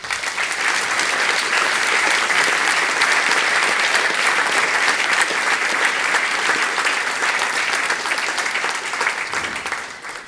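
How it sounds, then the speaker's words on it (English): A conference audience at the clojureD 2020 opening gives sustained, even applause, a dense wash of many hands holding steady for about ten seconds before tapering at the very end. "Please clap your hand for this year's committee."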